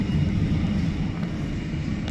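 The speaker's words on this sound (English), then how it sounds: "747 now making a left turn, taxi to runway for takeoff." A Boeing 747 airliner taxiing at LAX and turning toward the runway for takeoff, giving a loud, steady jet-engine rumble with a constant roar and no voices.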